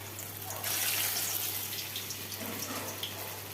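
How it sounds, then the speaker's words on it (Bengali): Potato fritters (aloo bora) made with onion, lentil paste, turmeric, salt and chopped chili fry in hot oil, giving a steady close sizzling hiss over a faint low hum, with no talking. "আর এখন এই যে বড়া ভাজা হচ্ছে।"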